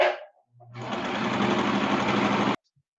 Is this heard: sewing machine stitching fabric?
yes